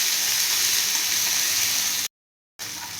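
Green chili, ginger and garlic paste with cumin and asafoetida sizzling steadily in hot oil in a pan, a continuous close hiss that cuts out briefly near the end before resuming.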